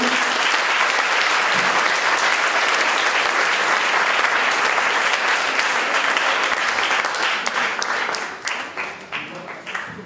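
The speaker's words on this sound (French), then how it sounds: "Il va falloir laisser la place ici pour les applaudissements." Sustained, dense applause from a conference audience fills the room at full strength, then thins into scattered individual claps toward the end.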